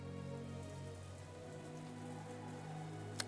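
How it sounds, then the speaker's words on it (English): Rain falling in a courtyard in the video game Umineko, a soft, steady patter that sits faint beneath a low sustained musical drone, with one brief sharp click near the end. "As he ran through the cold and scattered raindrops dashing up the stairs into the courtyard"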